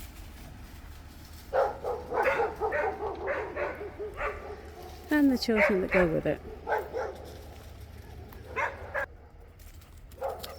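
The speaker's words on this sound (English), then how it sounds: "feeling that she needs to bark at a school bus" A dog barks repeatedly at a passing school bus on a country walk, yipping and whimpering in bursts while a person talks over it.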